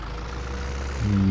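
A tractor engine idles in a farming video game, a steady low rumble that swells and grows louder near the end as the revs rise.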